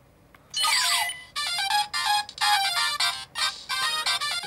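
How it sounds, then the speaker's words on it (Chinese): A Kamen Rider Den-O CSM phone toy plays its electronic incoming-call ringtone: loud, bright melodic beeping in repeated short bursts with brief gaps, heard alone. "只按这个通话键的时候呢， 是会显示一个来电音效。"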